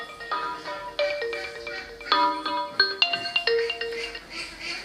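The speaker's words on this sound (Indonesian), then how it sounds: "telepon lagi" A telephone ringtone plays a bright, melodic electronic tune of several repeated note phrases, fairly close and clear with no talk over it.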